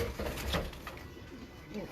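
Sialkoti pigeons coo softly in a breeding loft, low murmuring calls half buried under a voice and general room noise.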